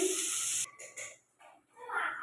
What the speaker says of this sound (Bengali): জিরেটা ফোড়ন দিয়ে দিলাম